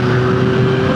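A 2024 Yamaha MT-09 V4 motorcycle revs in sport mode, its engine holding a loud, close, steady high-rpm drone with a sustained tonal whine for the whole moment.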